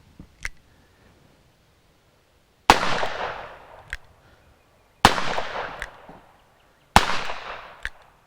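Three loud, sharp .357 revolver shots from old neglected ammunition ring out outdoors, each trailing off in a long echo, with a few small clicks from the gun between them and no talking.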